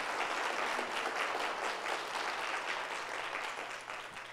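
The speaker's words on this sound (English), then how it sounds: "A round of applause." An audience at a 1 Million Cups community gathering in Springfield, Missouri applauds a speaker, with sustained, fairly loud clapping from the room that gradually fades in the final second.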